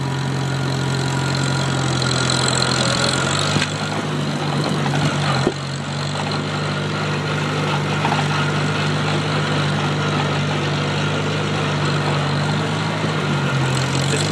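A Farmall Cub tractor engine runs steadily throughout, a loud continuous low chugging drone with a slight shift in pitch partway, close to the listener with no talk.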